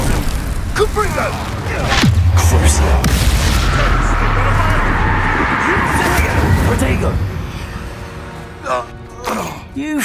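A Confringo blasting spell in Hogwarts Legacy goes off as a loud booming burst that rolls into a sustained roar, with spoken voices around it and game effects trailing off afterward.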